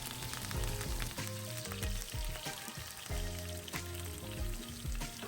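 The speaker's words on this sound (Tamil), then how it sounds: "ஒரு பேனில் எண்ணெய் ஹீட் ஆனதையும் கடுகு, உளுத்தம்பருப்பு, ஜீரகம் இது எல்லாத்தையும் போட்டு பொரிஞ்சதையும்" Chopped onions and curry leaves fry in hot oil with mustard seeds, urad dal and cumin, making a close, steady crackling sizzle with frequent sharp pops and spatters and no talking.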